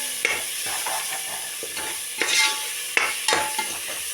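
Garam masala and biryani masala being sautéed in a pan for chicken biryani, with a steady soft sizzle and several scraping stir strokes of a spoon across the pan, close and alone.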